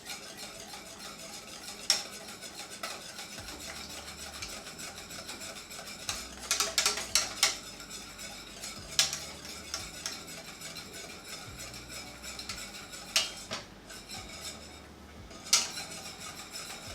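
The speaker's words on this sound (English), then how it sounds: "you kind of want to make sure you're whisking it pretty regularly so it doesn't stick to the bottom" Steady whisking of liquid in a pot, with a soft continuous scraping texture and occasional sharp clinks of metal against the pot's side.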